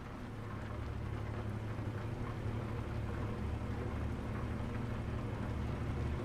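Steady rain falls in the Euro Truck Simulator 2 driving game, a dense continuous hiss layered over a low engine rumble from the truck, even and unbroken throughout with no talking.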